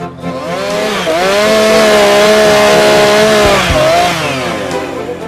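A chainsaw roars loudly and close, its engine revving up and holding a high pitch before easing off near the end.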